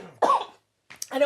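A single short cough at a home, a sharp burst followed by a pause, with a person speaking briefly right after.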